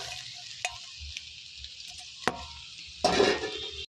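Chowmein fries with a steady hiss in a pan, broken by a few sharp scrapes and taps of the utensil. A louder burst of stirring and sizzling comes near the end before the sound cuts off abruptly.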